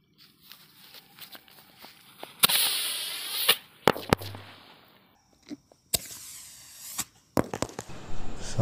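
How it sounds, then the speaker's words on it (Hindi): A rocket and a triangle-shaped samosa firecracker bomb set off outdoors, with several sharp, loud bangs and crackling bursts separated by quieter gaps with small clicks and rustles. "तो नेक्स्ट हम चलाएंगे रॉकेट प्लस बम, ट्रायंगल शेप का बम है समोसा वाला"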